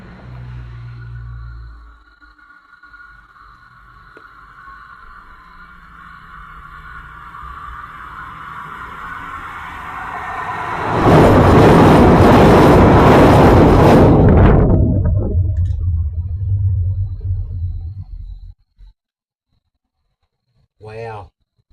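A train crosses a railway bridge directly overhead while someone camps underneath it. A low rumble builds slowly, then a loud roaring clatter peaks for several seconds and fades away into quiet.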